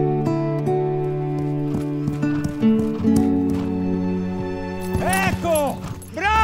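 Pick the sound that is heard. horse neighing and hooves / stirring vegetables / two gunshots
horse neighing and hooves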